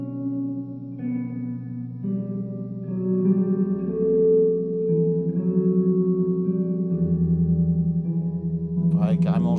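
A harp played through guitar effects pedals, its plucked notes smeared by reverb and echo into a sustained, shimmering wash that swells and thickens, with brighter plucks near the end.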